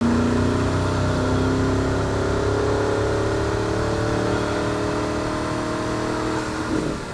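A 2024 Porsche Cayenne Turbo GT Coupe's 4-liter biturbo V8, rated at 650 horsepower, pulls hard with a loud, sustained engine tone that climbs steadily in pitch, with no talk.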